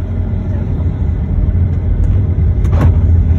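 A moving car's engine gives a loud, steady low rumble from inside the vehicle, continuous throughout, with a brief faint knock near the end.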